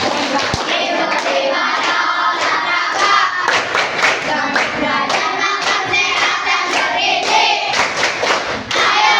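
Children clap a rhythmic patterned chant, mixing hand claps, pats and thumps in a repeating beat, with voices chanting along close by.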